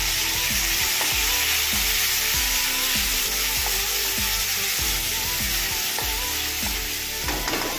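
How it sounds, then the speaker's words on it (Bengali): Chopped onion and tomato fry in a pan for a paneer ball curry, a dense, steady sizzle that runs throughout, punctuated by regular scraping knocks of a spatula stirring the pan. "এবারে পেঁয়াজ আর টমেটো কুচিটা দিয়ে দেবো।"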